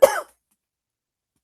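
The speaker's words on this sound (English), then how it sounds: "Hold on, I have to cough." A single short cough comes close to the microphone, followed by silence.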